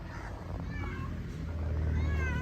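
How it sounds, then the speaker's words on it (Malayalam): A pet cat gives a few soft meows in a home garden yard, faint against a steady low background rumble with no talking. "കണ്ടില്ലേ ഗൈസ്, നമ്മളെ വയ്യേക്ക് വരുന്ന നമ്മളെ പൂച്ച"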